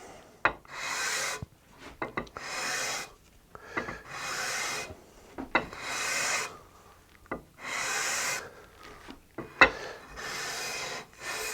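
Sandpaper, 220 grit, is worked by hand along a wooden guitar fretboard with light pressure, making a steady series of close raspy strokes separated by brief pauses and occasional small knocks.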